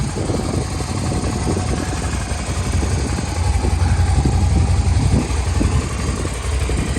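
A low-mileage Suzuki SV650 S motorcycle engine runs at a steady, loud idle close by, with a dense throbbing rumble that swells slightly midway and no talking.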